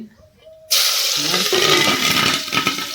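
Mustard seeds dropped into hot oil for a green cow-pea and onion curry with gram flour, bursting into a sudden loud, steady sizzle and crackle after a quiet start, with a faint voice in the background.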